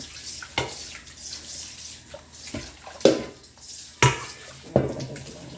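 Water splashes and sloshes in a kitchen as lettuce is soaked, with irregular bursts a second or so apart over a constant running-water hiss, close and moderately loud.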